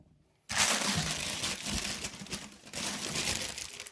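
Plastic bag for medical waste crinkling up close, a sudden loud rustle after a brief quiet start that keeps going in dense, irregular crackles with no talking.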